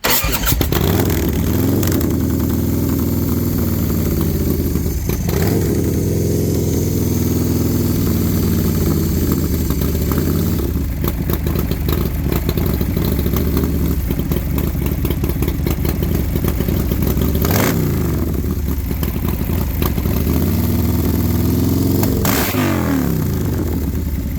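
A Honda CR500 two-stroke motorcycle engine runs loud and close through FMF Mega Bomb expansion pipes, holding a steady rumbling idle with repeated sharp revs that rise and fall throughout, with no talking.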